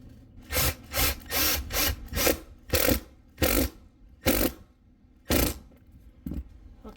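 Screws are driven into termination strips on a PVC membrane RV roof. Close, loud bursts of power-driver whirring and grinding repeat about a dozen times in an even rhythm, with no voices.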